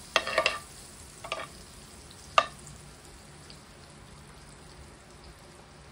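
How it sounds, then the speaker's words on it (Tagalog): Beef and onions frying and caramelizing in a pan, a quiet steady sizzle with a few sharp clatters of stirring near the start, then a faint continuous hiss. "Lulutuin lang natin siya sa sarili niya, tapos yung sibuyas kakaramelize natin sa gilid"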